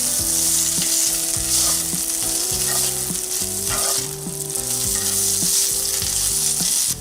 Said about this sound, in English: Keep heating up the pork while stirring it around in that oil, getting it nice and warm.